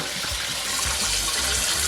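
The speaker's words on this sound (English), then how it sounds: "we're going to turn on some water" Water gushes steadily from a tap, a constant full splashing rush with no pauses.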